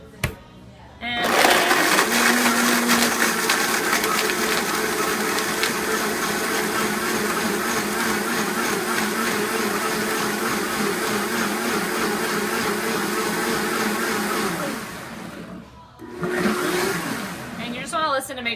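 A blender crushes ice for a post-workout shake, running loud and continuous for about fifteen seconds with grinding and churning that eases briefly before it revs up again near the end.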